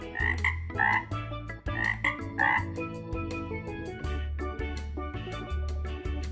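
Frog croaking in loud, repeated rhythmic bursts with a ribbed, throaty texture, close and continuous over several seconds with no talk.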